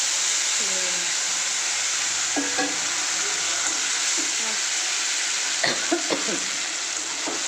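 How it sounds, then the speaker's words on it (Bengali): Dried red chillies sizzle and spit in hot oil in a wok, a steady close hiss with scattered crackles and pops and a few brief clinks of a stirring utensil, with no talk. "কড়াইতে তেল বসিয়ে দিলাম আর কটা শুকনো লঙ্কা ফোড়ন দিয়ে দিচ্ছি"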